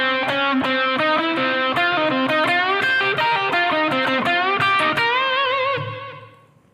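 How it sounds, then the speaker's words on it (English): A distorted electric guitar plays a lick, a quick run of sharply picked single notes and bends that ring out loudly and alone before fading at the end. "So if I put the whole kind of lick together, it sounds like this."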